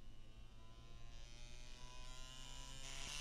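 A small tattoo machine for fine-line and permanent makeup work buzzes steadily and faintly on its own, its whine climbing in pitch as the speed is turned up to maximum.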